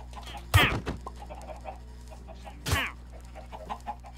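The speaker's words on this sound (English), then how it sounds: "You trying to take my chickens?" Chickens cluck in a coop in the video game Minecraft, two loud close clucking bursts separated by quieter scattered clucks in between.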